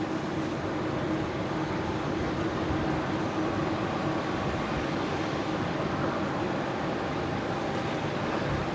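A Qantas Airbus A330 airliner taxis at Brisbane Airport at night, a steady broadband engine rumble and hiss holding evenly at moderate distance throughout.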